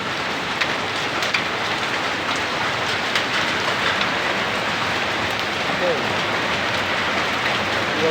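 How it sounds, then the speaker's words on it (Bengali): Hailstones and heavy rain pelt down together in a dense, unbroken patter, close and steady, with small louder impacts scattered through the roar. "এই শিল কেমনে পড়তেছে"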